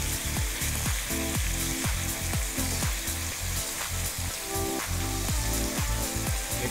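Quarter-inch slivered beef stir frying in a hot pan, a dense continuous sizzle with rhythmic scraping strokes of stirring throughout, close and loud with no talking.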